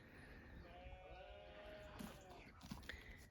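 A sheep on an off-grid homestead bleats in a couple of faint, wavering cries amid quiet outdoor background noise.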